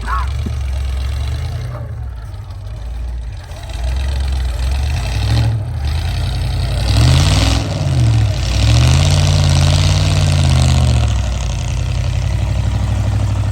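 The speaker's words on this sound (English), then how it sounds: "The exhaust leak doesn't sound as bad on this side." An old K-series truck engine with an exhaust leak idles nearby on a snowy trail, a rough, ragged rumble and puffing exhaust, briefly revving up and settling again.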